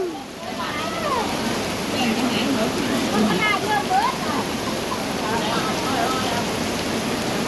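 Heavy rain pours steadily in a dense, continuous hiss at a Thai temple, while someone talks over it.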